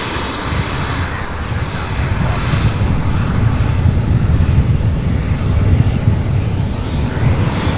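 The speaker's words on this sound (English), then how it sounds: "This one's going to taxi right here in front of us, everybody." A passenger jet taxis close by at SDF airport, its engines giving a loud, steady roar that holds throughout with a constant whine above it.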